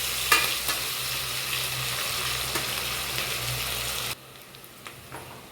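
Onions sautéing in oil for Chettinad mutton biryani, a loud close sizzle with frequent spoon-stirring scrapes, easing off toward the end, with no talking.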